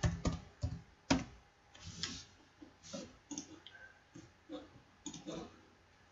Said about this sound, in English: You type in the URL of your business page.